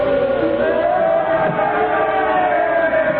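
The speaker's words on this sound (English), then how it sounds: "The crowd, they're yelling something at..." A large crowd in a radio drama shouts and yells together about Lenin in a steady, dense roar, voices blending into one continuous wall of sound.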